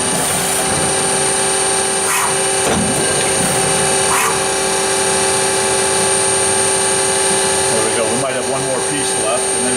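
A Spartan (Marvel) P-65A fully automatic production circular saw cuts metal bars, a steady loud machine drone with clamping clunks and grinding bursts, people talking faintly beneath the din.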